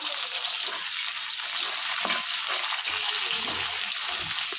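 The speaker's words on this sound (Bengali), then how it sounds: "এদিকে তেল গরম হয়ে গেছে, সরষের তেলেই করছি। পেঁয়াজগুলো আমি ছেড়ে দিলাম।" Onions sizzle steadily in hot mustard oil in a home kitchen, a continuous close crackling hiss with a few faint knocks and stirring sounds underneath.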